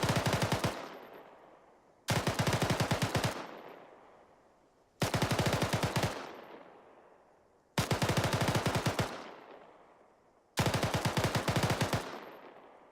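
Rapid rifle fire in the Arma 3 military game: five longer automatic bursts of about six to ten rounds, each loud and close with a fading reverberant tail, repeating every two to three seconds.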